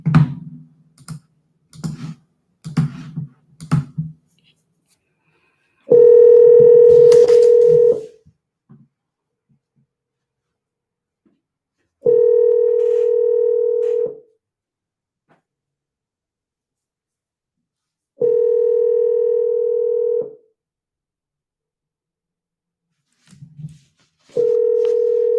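A landline call placed to a cell phone: a few quick clicks and keypad taps at the start, then a steady ringing tone that repeats in evenly spaced bursts of about two seconds, loud and clear with no talking.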